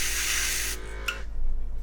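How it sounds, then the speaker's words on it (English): Short burst of spray paint from a can onto an Imperial Knight miniature, a steady bright hiss that cuts off abruptly, followed by faint handling noises. "and spray this and just see how the results works."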